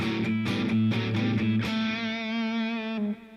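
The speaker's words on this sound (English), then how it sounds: "let's go just distortion only" Electric guitar played through a drive pedal set for distortion alone, loud and close. Quick repeated picked notes give way to a long sustained distorted chord ringing out before it cuts off.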